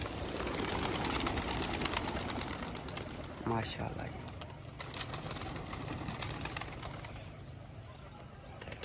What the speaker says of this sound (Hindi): ये देखें माशाल्लाह सारे कबूतर आज उड़ाने हैं ये वाले